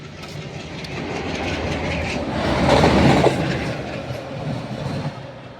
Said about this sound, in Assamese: অঁ, ইঞ্জিনহে আহি আছে দেখোন।